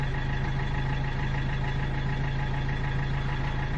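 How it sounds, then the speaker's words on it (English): A vehicle engine idles steadily after start-up, a constant low hum with a fixed harmonic drone, close and unbroken for the whole stretch, with no voices. "as the engine will carry on idling"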